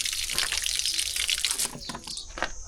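Water gushes steadily from a pipe tap fed by a borewell, a close, continuous splashing rush that eases slightly toward the end.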